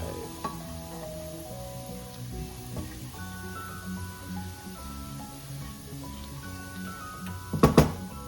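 Beef and garlic brown in a hot pan for a beef pares stew, giving a low, steady sizzle with occasional soft stirring scrapes and a brief louder clatter near the end.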